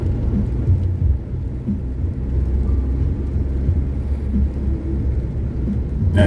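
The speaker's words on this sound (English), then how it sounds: "That big truck goes." A big truck drives past on a highway in Thailand, a heavy low rumble that stays strong and steady throughout, heard close from inside a moving car with no talking.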